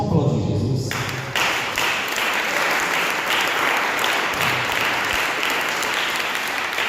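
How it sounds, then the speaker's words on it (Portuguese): A church congregation applauds during a Portuguese-language sermon, with loud, dense clapping that holds steady and fills the room for about seven seconds. "Vamos aplaudir Jesus."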